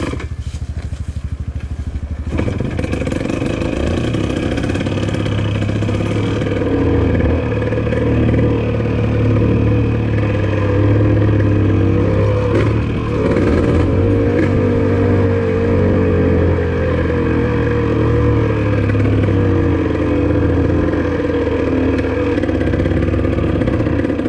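A Yamaha DT180 trail motorcycle engine runs steadily on a trail, a buzzy two-stroke drone with slight revving and clatter, close and loud throughout with no talking.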